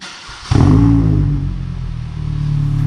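A Hyundai LF Sonata with a naturally aspirated engine, a full variable exhaust held open and a muffler tip, fires up close by with a sudden loud roar that settles into a deep, rumbling idle.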